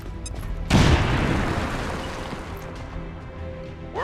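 A grenade detonates in XCOM 2 with one loud, sudden boom, followed by a long rumbling roar of debris and crackle that slowly fades away. No voices are heard.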